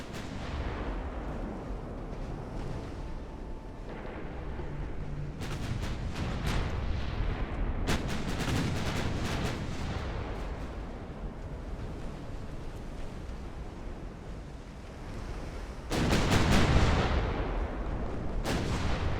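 Battlecruiser naval guns firing in Ultimate Admiral: Dreadnoughts, heavy booming salvos at irregular intervals over a steady rumble of sea and wind, with a louder cluster of blasts near the end and no talk.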